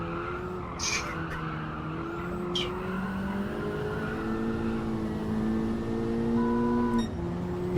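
Honda Civic FL5 race car in a racing video game, its engine droning with steady rising and falling revs, and tyres squealing and skidding throughout.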